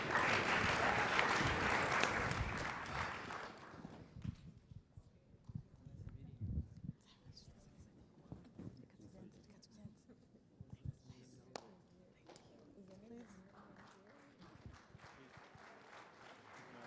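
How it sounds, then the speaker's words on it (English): Panelists at a youth convention receive a burst of audience applause that fades after about four seconds, followed by quiet room noise, scattered footsteps and faint talking. "Another warm round of applause for our panelists."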